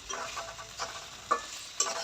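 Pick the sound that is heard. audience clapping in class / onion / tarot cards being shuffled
onion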